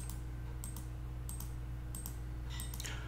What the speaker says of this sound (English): It's just I'm clicking articles.